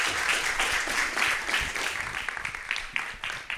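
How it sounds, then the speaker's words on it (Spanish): Audience at an awards ceremony gives a round of applause, dense clapping filling the room for a few seconds before thinning out slightly toward the end. "Yo creo que le podemos dar de nuevo un fuerte aplauso."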